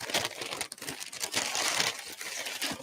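Sheets of paper from a large pile of boxed paperwork are crinkled and rustled by hand, close up, in continuous uneven bursts with no voices.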